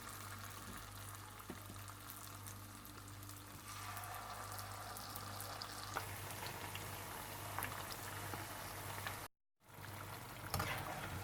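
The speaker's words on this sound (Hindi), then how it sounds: "आप तेल गरम कर लीजिए और खजूरों को बैटर में डालकर तल लीजिए" Dates coated in batter fry in hot oil with a steady, even bubbling and crackle that holds at a moderate level throughout, breaking off for a brief instant near the end before resuming.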